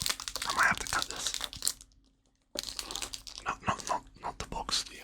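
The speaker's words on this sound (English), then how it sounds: "So let me open it without making too much noise." Close crinkling and tearing of packaging as a wrapped item is opened, in busy bursts broken by a short silent pause, with a person speaking over parts of it.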